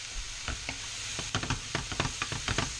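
Diced mushrooms stirred in a pan with sliced tomato, a steady sizzle under repeated scraping strokes of a utensil against the pan, several quick stirs clustering in the second half.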